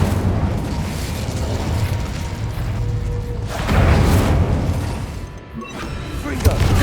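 An Incendio fire spell in Hogwarts Legacy is cast with a loud, close burst, a whooshing, booming flare of flame swelling mid-way over steady game background noise and other spell effects.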